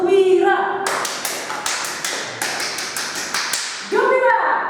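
An audience at a tax-awareness talk performs the rhythmic 'tepuk gembira' clapping routine, a patterned sequence of sharp group claps in quick bursts, framed by a voice speaking before and after.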